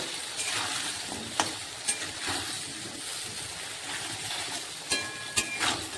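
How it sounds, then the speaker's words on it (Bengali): Taro (gathi kochu) frying with salt and turmeric in a pan: a steady sizzle broken by several stirring scrapes and knocks, close and moderately loud, with no talk. "একটু লাল লাল করে ভেজে তুলে নেব"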